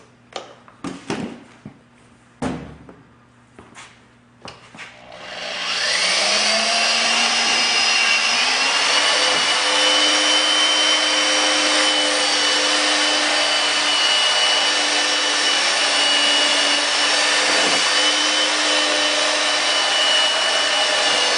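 Power drill spinning a 3M wet sanding pad against a Ford F150 headlight, a few short handling knocks first, then a loud steady whining drone that runs continuously close up for the rest.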